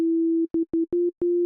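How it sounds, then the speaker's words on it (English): A synthesizer plays a pure sine wave tone an octave up, a steady hum broken into short repeated notes with clicks at each start and stop, then held again. "So I'm just using a simple sine wave here."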